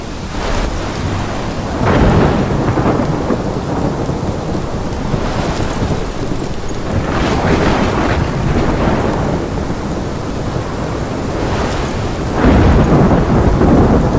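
A thunderstorm in the video game Life Is Strange: loud, steady rain pours throughout while deep thunder rolls and swells several times, with no voices.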